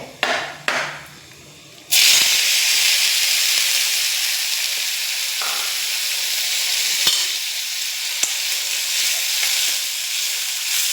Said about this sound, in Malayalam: നമുക്ക് തീ സിമ്മിലിട്ടിട്ട് ചതച്ച് വെച്ച് കുഞ്ഞുള്ളിയും വെളുത്തുള്ളി ഇടാവേ